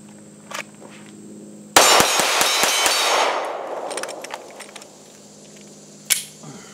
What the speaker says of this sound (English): put some rounds on some steel real quick